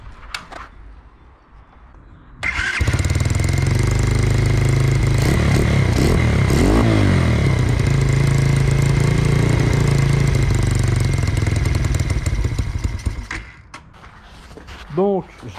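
A swapped-engine Yamasaki motorcycle cranks and catches at about 2.5 seconds, then idles loudly and steadily up close for roughly eleven seconds before shutting off, followed by brief talk.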